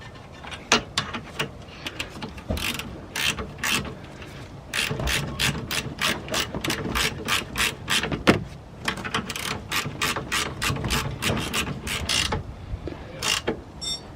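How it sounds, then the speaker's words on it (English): A ratchet wrench rapidly clicks while tightening a new nut onto the ball joint of a BMW E90 3 Series front control arm, in quick bursts of close metallic ratcheting with short pauses between runs. "install the new nut onto the ball joint"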